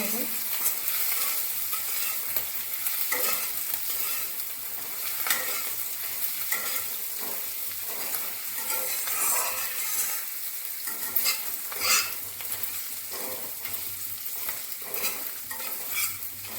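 Ginger sizzles in hot oil with bay leaf and cumin in a pan for a homestyle potato dum. It crackles continuously up close, with irregular spatula scrapes and stirring knocks and no voices.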